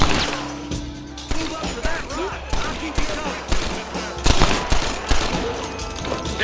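Rapid bursts of gunfire in Red Dead Redemption crackle over voices and background game sounds, with sharp shots coming in uneven clusters.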